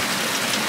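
Steady rain bursting down on a rainy day aboard a sailboat, a dense, even hiss of falling drops that is close and continuous, with no voices.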